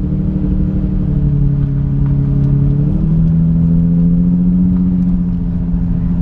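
An Infiniti G35 with a Nismo bumper cruises in automatic on new wheels, its engine a smooth, steady low drone that shifts pitch slightly midway, loud and close inside the car.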